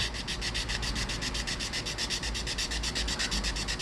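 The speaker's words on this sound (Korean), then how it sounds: "면을 갖다가 일자로 똑같이 갈아주세요." Steady rhythmic scraping of fine sandpaper on a plastic block rubbed back and forth across brake pads in fast, even strokes, close and continuous with no talking.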